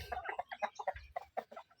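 Broiler chickens on a farm cluck in quick, uneven bursts, several birds close by at low volume, with no voices.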